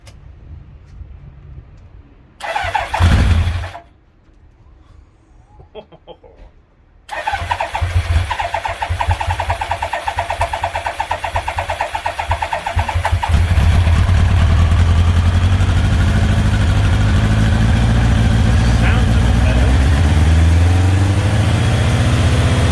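A Kawasaki GPZ900R barn-find motorcycle engine cranks briefly, catches after a pause, and then runs loudly, its revs climbing to a higher, steady roar.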